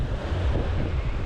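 Gentle surf at Playa Mamitas in Playa del Carmen, where breakwaters calm the sea, heard as a low, continuous rumble of waves heavily buffeted by wind across the microphone.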